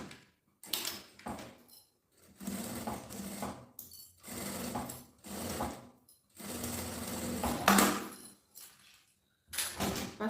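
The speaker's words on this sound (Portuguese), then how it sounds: "E aí, eu vou passar a costura aqui." A sewing machine stitching nylon zipper tape on a gym bag, running in several loud bursts of a second or two, separated by short pauses.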